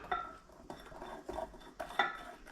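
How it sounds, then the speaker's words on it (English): Spices being mixed into flour in a bowl, heard up close as a few soft scraping strokes with light utensil clinks against the dish, about four distinct stirs in quick succession. "And let me get the spices put into the flour. Let's just mix these all up in there."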